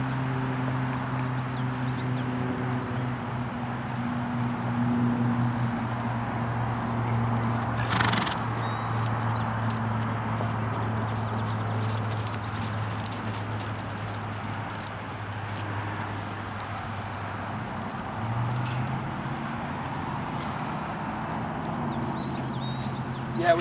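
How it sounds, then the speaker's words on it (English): A horse trotting during dressage schooling in an arena, a steady rhythm of soft hoof beats over a constant background hum, with a brief snort or whinny and occasional talking. "Let me see some trot work now."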